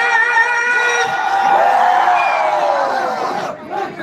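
A large crowd at a night concert screams and cheers in one sustained, loud roar that swells and then fades near the end, with no speech standing out above it.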